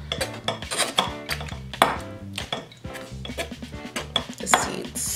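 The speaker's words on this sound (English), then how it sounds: "I'm just going to mix it around in the strainer to get rid of all of the seasonings" Tamarind pulp stirred around inside a metal strainer to separate out the seeds, giving repeated close scraping and clinking of a utensil against metal mesh in an uneven rhythm, with no talk.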